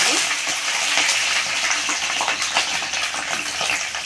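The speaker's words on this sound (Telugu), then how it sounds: "ఆయిల్ అయితే బాగా హీట్ అయిందండి. ఇప్పుడు ఫస్ట్ మనం పచ్చిమిర్చి యాడ్ చేసుకోవాలి." Green chillies frying in well-heated oil in a pan, a loud, steady close crackle and sizzle with light metallic clinks of a spoon.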